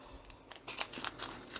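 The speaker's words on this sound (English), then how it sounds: "Scissors." Scissors snip through a package in a home kitchen while sausage balls are being prepared: a quick run of sharp, close cutting clicks after a brief quiet rustle, with no talking.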